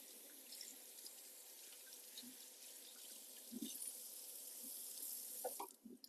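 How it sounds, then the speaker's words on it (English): Tap water runs steadily into a sink while a cap is rinsed inside and out by hand, a continuous close splashing flow with a few brief louder splatters near the end. "to rinse out the inside of the cap real well"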